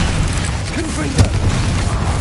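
A Confringo blasting curse explodes in the Hogwarts Legacy video game, a loud continuous rumbling roar with a sharper burst near the middle, and a voice briefly heard within the din.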